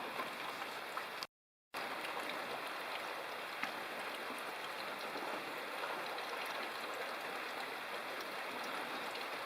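Cool rain falls outside an off-grid log cabin, a steady, soft, even hiss of drops continuing without a break and with no voices.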